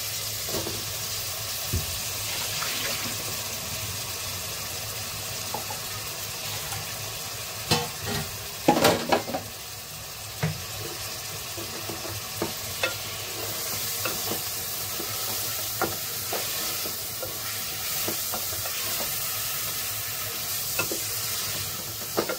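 Potatoes frying and being stirred into a masala paste in a pan for a non-veg thali, with steady sizzling and repeated scraping stir strokes, close and loud, with no voices.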